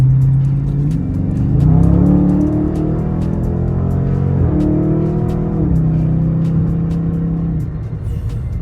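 Dodge Charger Scat Pack 392 V8 accelerating hard up a freeway on-ramp, its loud, deep engine roar climbing in pitch through gear changes, steady and close from start to end.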